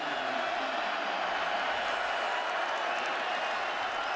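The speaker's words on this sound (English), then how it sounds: "here comes the crowd" Continuous roar of a large college football stadium crowd at Oklahoma's home field in Norman during an Iowa State game, a steady, loud wash of cheering and clapping with no break.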